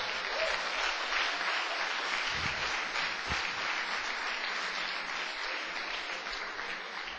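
Church congregation applauding together, a steady broadband clapping that fills the space evenly throughout and tapers slightly toward the end, with no voices standing out.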